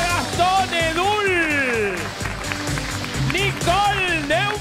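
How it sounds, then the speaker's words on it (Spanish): Studio audience applause on a TV game show, a broad wash of clapping running steadily beneath bright, swooping musical tones and stings. "Fuerte el aplauso para Carmen Barbieri."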